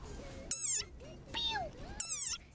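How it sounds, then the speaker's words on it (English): A desert rain frog gives three short, high, squeaky cries, each a brief rising-and-falling whistle separated by quiet gaps, close and fairly faint. "Like this desert rain frog. Squeaking viral sensation."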